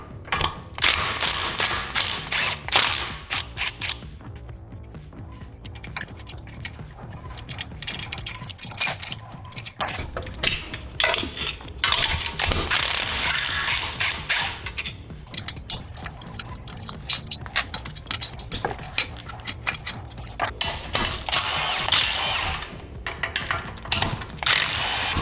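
Hand tools working on a mini bike engine as the cylinder head is wrenched off: continuous clinking, ratcheting and metallic rattles close by, with no speech over it.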